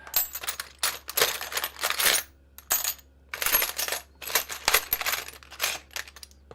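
Small titanium pieces clink and rattle against each other in repeated bursts, bright metallic jingles with brief pauses, close and fairly quiet over a low steady hum.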